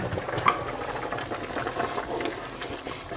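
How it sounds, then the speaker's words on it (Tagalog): A pot of pork sinigang soup bubbles and simmers steadily on the stove, a soft continuous churning of liquid with faint clinks, close by and moderately quiet. "Ayan, kumukulo na."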